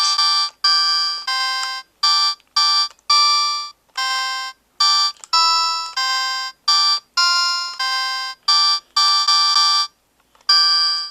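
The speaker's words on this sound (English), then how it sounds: "each of the badges has its own different tone to it. And you hear the tone when you select it" A series of short, bright electronic chimes and beeps play one after another, each a different little tone, clear and alone with brief gaps between.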